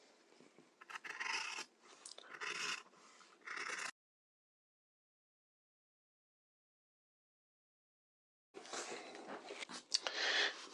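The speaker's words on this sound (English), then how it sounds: "We're going to trim that seam allowance back to 1/4 of an inch." Scissors trimming a fabric seam allowance on a bias hem facing, a few close crisp cutting snips and rustles in two bursts with a long silent gap between.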